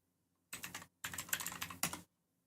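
Rapid clicky keystrokes on a dual-mode mechanical keyboard with blue switches in two short bursts separated by a brief pause, close and crisp, with no voices.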